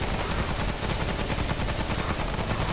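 Continuous rapid gunfire in the video game Remnant: From the Ashes, close and loud, a dense unbroken burst of shots filling the short stretch.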